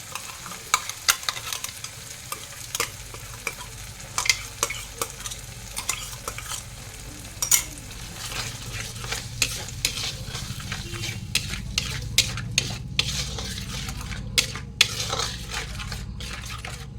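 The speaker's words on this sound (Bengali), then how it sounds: "এবার এই যে পেস্ট করে রেখেছিলাম কাজু কিশমিশ, আদা, লঙ্কা আর টমেটো, এটা এবার দিয়ে দেবো।" A paste of cashew, raisin, ginger, chili and tomato frying in a pan: a steady close sizzle with repeated scraping stirs throughout, growing denser toward the end.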